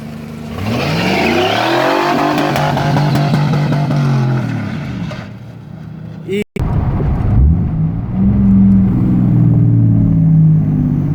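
A 4th-gen Cummins diesel pickup work truck revs hard while driving. The loud engine climbs and falls in repeated sweeps, cuts out for a moment, then roars up again, with voices talking over it.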